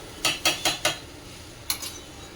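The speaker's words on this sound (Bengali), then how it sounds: "তো এই যে কুকারে দিয়ে দিচ্ছি, আর জলটা আন্দাজ করে দিয়ে দিচ্ছি।" Ingredients and water going into a pressure cooker: four quick metallic clinks of a utensil against the pot in a row, a pause, then a couple more lighter taps, close and clear over a quiet room.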